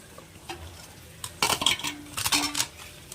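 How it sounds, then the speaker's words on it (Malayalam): Three kilos of chicken tipped into green masala paste in a pot, heard as close metallic clanks and scrapes of a utensil against the pot in a short cluster, with no talking. "ഇനി ചിക്കൻ ഇതിലേക്ക് ഇടാം."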